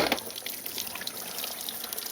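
Water being poured over a child during a bath at home, a close, soft splashing pour with a brief stronger gush at the start, then a steady trickle and patter.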